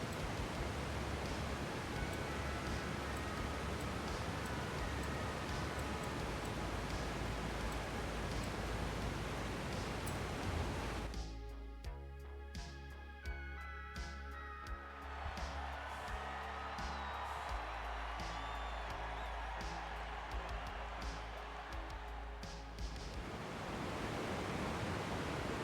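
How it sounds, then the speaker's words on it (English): Constant roaring rush of a waterfall in the racing game Forza Horizon 5, loud and unbroken, briefly thinning midway as other game sounds and faint tones come through. "Must be right next to a waterfall, because that's all I can hear."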